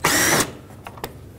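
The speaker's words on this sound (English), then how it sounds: "I'm going to start by removing these two T30 Torx bolts." Short burst of a power tool driving out T30 Torx bolts on a 2005-2009 Chevy Equinox liftgate, a loud whir of under half a second followed by two faint clicks, with no talk.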